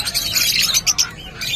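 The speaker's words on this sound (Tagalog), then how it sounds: "Tingnan natin yung mga ibon niya ngayon." Gouldian finches chirp at a Bocaue pet market, a quick run of bright, overlapping tweets and calls up close, with faint background chatter from the market.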